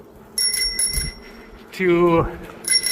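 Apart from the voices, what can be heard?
bicycle bell ringing on a bike ride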